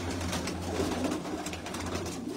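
Soft, rolling coos from several pigeons at Jinnah Garden in Islamabad blend into a steady background hum, the calls repeating without clear breaks and no voices on top.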